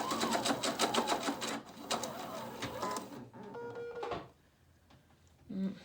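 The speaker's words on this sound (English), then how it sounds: "I'm just going to start sewing again at the edge" A sewing machine stitches a seam on a Pendleton '49er shirt collar: a loud, fast rhythmic rattle runs for about three seconds, slows and stops, then quiet with a faint mechanical click near the end.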